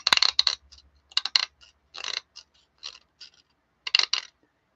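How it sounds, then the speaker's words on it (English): Scissors scrape across the surface of a sewing button to roughen it, giving short, dry rasping strokes in an irregular rhythm, close and fairly quiet, with pauses between strokes. "Just going to take a scissors and scrape the surface of it a little bit just to roughen it up."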